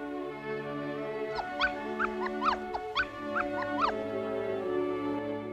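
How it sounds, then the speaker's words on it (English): A small puppy whimpers and squeaks in a series of high, thin cries over a soft musical background. "A baby dog."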